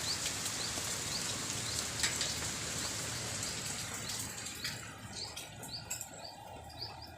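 Steady rain on a wet rainy day makes a dense, even hiss throughout, with light drips and faint bird chirps rising toward the end; no one speaks.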